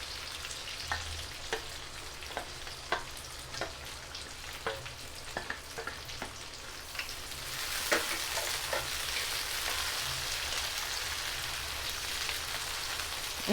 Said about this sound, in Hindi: इनको 2-3 मिनट तक अच्छी तरह सौटे करेंगे ताकि सब्जियां थोड़ी सी नरम पड़ जाएं।